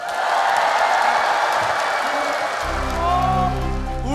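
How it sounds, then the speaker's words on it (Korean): Children's audience at a kids' TV festival show clapping together, a broad, dense burst of applause and cheering that fills the space, with music starting under it near the end. "무지개가 맞다고 생각하면 박수 한 번 보내주세요."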